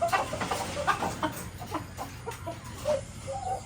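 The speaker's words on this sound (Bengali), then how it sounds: "মুরগি আর মোরগ লাফালাফি করতেছে।" A hen pecks at a rooster while the two birds jump and scuffle about, giving soft, scattered clucks and rustling bursts that stay faint and close, with no talking.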